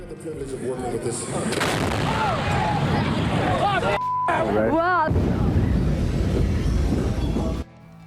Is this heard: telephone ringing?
no